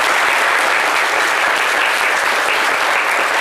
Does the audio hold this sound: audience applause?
yes